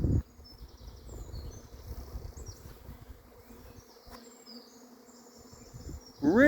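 A swarm of insects inside an old Briggs and Stratton generator that has not run since the 1980s gives off a dense, continuous buzzing drone, with a brief louder burst at the start and end.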